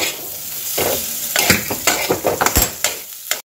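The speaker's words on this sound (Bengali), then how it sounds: "দিয়ে আরও 2-3 মিনিট ধরে মশলাটা আর গোবিন্দভোগ চাল আর আলুর সাথে কষে নেব" Spices tossed with Gobindobhog rice and potatoes in a pan: steady close sizzle with repeated scraping and stirring strokes of a utensil, several sharp clinks toward the end, then sudden silence.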